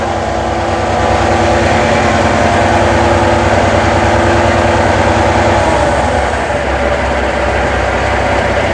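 A truck's air brake compressor loads while the diesel engine runs at around 1000 to 1200 RPM during a pre-trip check, giving a steady loud low throb with a rhythmic pulsing hum throughout.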